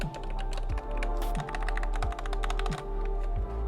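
Quick, steady keystrokes on a Turtle Beach gaming keyboard with linear switches, light crisp clacks in a fast even rhythm, close up and alone with no talking.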